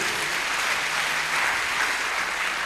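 A church congregation applauding for the Lord, a dense, continuous wash of clapping with faint cheering, steady and fairly loud throughout.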